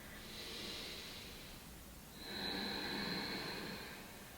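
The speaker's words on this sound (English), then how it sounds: "we're breathing through the nose" Slow, steady breaths drawn through the nose in a yoga downward-facing pose, two long airy hissing breaths close to the ear, one easing out before the next draws in.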